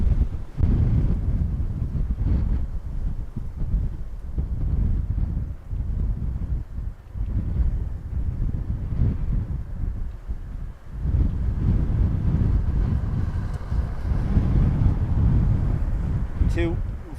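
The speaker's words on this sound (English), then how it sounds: "It acts like a wind tunnel." Strong gusting wind buffets the microphone outdoors at Dublin Airport, producing heavy low rumbling that surges and fades continuously throughout.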